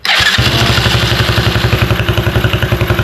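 A 125 Blazer engine cranks and catches, then settles into a steady, fast-pulsing idle with a rattly, buzzy small-engine tone, loud and close with no talking.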